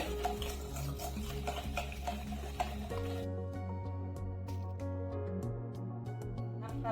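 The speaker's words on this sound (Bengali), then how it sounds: "হাফ কাপ সাদা তেল দিয়ে দিলাম পাঁচ মিনিট ফেটিয়ে নেবো ভালোভাবে" Whisking half a cup of white oil into a sweet Parle-G biscuit cake batter, with rapid continuous scraping and clinking of the whisk against the bowl, loud and close, and steady background music throughout.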